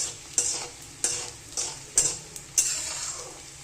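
Edible gum frying in hot oil, a sizzling bed punctuated by about six rhythmic spoon or ladle strokes against the pan, close and clear with no talking.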